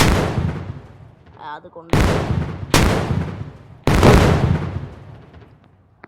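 Gunfire from zombie shooting in the video game IBD3D rings out as four heavy booming shots with long decaying tails, spaced about a second apart, while a voice speaks briefly between them.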